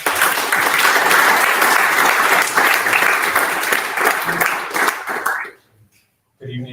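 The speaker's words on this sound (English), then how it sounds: "Big round of applause, everyone." Loud, dense applause from an audience at a startup demo night in London, sustained for about five seconds before cutting off into near silence, then a brief resumption of noise at the very end.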